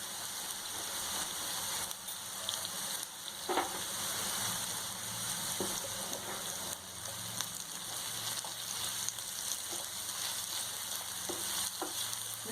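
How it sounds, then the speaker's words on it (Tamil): Sliced onions with a pinch of salt sizzle steadily in a hot pan, a soft crackling hiss punctuated by a few scraping stirs, close and continuous with no voices. "ஆனியன் சீக்கிரமாக ஃப்ரை ஆகணும்னா கொஞ்சம் உப்பு போடுங்க, சீக்கிரமாக ஃப்ரை ஆகிடும்."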